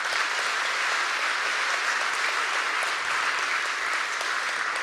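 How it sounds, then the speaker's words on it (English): Steady, dense applause from a concert audience at a classical Christmas evening, clapping for a girl who raised money for a Down syndrome charity, filling the full stretch evenly without pause. "So that deserves a round of applause."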